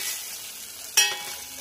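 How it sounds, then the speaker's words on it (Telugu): Ginger-garlic paste stirred into a pan of frying dried prawn curry, a soft steady sizzle running throughout with one brief louder scrape of the spoon partway through. "అల్లం వెల్లుల్లి పేస్ట్ కొంచెం కలుపుకొని ఇట్లా కలుపుకోవాలి."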